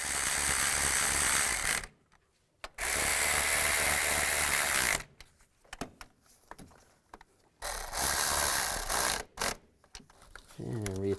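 Nuts are tightened down onto studs with a ratchet during a timing chain replacement on a 2002-2009 Chevy Trailblazer, in loud bursts of rapid clicking separated by pauses.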